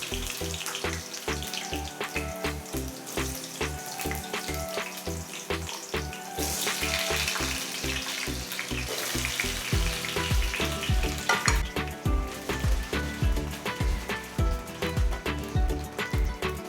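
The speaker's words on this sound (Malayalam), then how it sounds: "ഉരുളക്കിഴങ്ങ് ഇതുപോലെ ക്യൂബ് സൈസിൽ കട്ട് ചെയ്ത് ഇനി നമുക്കിതിൽ ഒന്ന് ഷാലോ ഫ്രൈ ചെയ്തെടുക്കാം" Cubed potatoes shallow frying in oil for a soya potato curry, a steady loud sizzle and crackle with rhythmic stirring and scraping knocks throughout, no voices.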